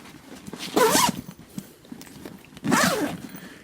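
Two zipper pulls on a knife bag are drawn in two separate bursts, each a quick rasping zip close by, with a quiet pause between them.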